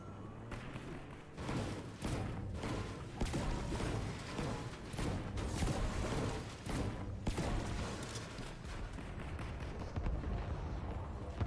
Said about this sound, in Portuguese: Tem gente atirando ele, mãe.